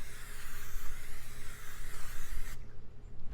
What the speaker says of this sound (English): I'm just going to spray a little bit of the cooking spray onto the surface